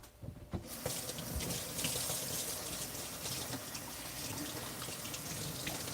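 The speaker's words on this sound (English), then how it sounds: "I'm just rinsing off the roots a little bit because of other weeds and stuff that were around it." Tap water runs steadily into a sink while plant roots are rinsed, a close continuous splashing gush that starts after a brief quiet moment and carries on throughout.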